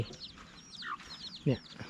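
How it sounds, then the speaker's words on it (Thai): Chickens kept under a Karen family's stilt house in rural Thailand cluck softly in short, scattered calls at close range, with one louder squawk midway. "แล้วก็จะมีไก่"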